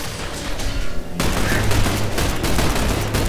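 A gun turret opens fire in The Bureau, a sudden sustained burst of rapid automatic shots that continues loudly and steadily after a quieter start.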